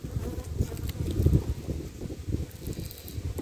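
Honeybees buzzing around a beehive in a dense, continuous low drone with small swells, close by and with no talking.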